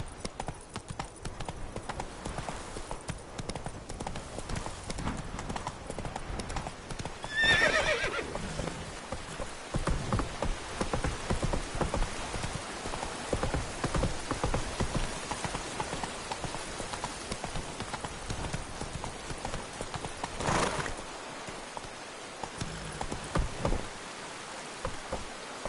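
A horse gallops in The Witcher 3, with a steady, fast clip-clop of hooves and a brief whinny, over a soft rain-like hiss throughout.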